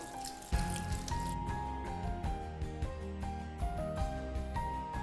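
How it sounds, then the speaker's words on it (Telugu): Water poured into a pressure cooker holding cauliflower, carrot, peas, potato and salt for a mixed vegetable curry, a steady splashing pour running under a soft musical background with intermittent clinks. "నీళ్లు వేయాలి, వాటర్ వేయాలి."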